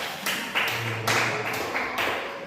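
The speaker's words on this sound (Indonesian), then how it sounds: "Tepuk tangan dulu untuk mereka" A classroom group claps for a team in a lively rhythm, with several loud bursts of hand claps at irregular intervals, close and fairly loud.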